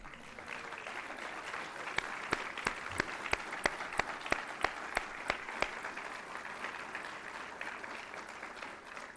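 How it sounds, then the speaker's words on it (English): Sustained audience applause at a NASA agency honor awards ceremony, greeting honorees' standing family members; a steady wash of many hands clapping throughout, fairly distant, with a few sharper individual claps standing out. "We'd like to give you guys a round of applause"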